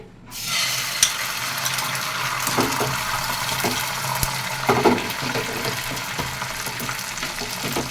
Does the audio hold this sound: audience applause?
no